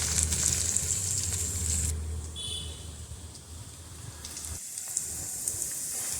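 Ivy gourd slices frying in a pan, cooked on low heat for a crispy fry, give a steady, fairly loud sizzle that quiets after about two seconds and drops to a soft hiss near the end.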